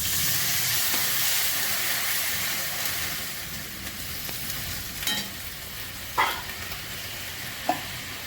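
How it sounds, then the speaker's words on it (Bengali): Water poured onto fried spice paste in a hot pan for a duck egg curry sets off a loud, broad hiss and sizzle that slowly settles, broken by a few stirring clinks. "মশলা কষানো হয়ে গেছে, আমি জল দিয়ে দিলাম।"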